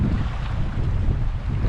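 Strong wind roars and buffets the microphone in a low, continuous rumble.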